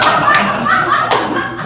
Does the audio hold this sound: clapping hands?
yes